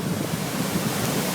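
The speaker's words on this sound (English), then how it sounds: "You can see the water is just flowing here." Lake water flowing out of Manitouwabing at Tait's Landing into the Seguin River, with the blockades removed, gives a steady, broad rushing roar that stays loud and even throughout, with no voices.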